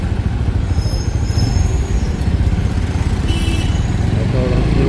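An Apache RTR motorcycle with an oil-cooled engine runs close by, its engine chugging in a steady, rapid, loud rhythm under some speech.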